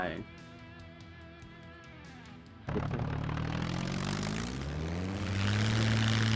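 A seaplane's propeller engine in the survival game SCUM sputters at idle, then abruptly roars louder and climbs steadily in pitch as it revs up, with people talking over it.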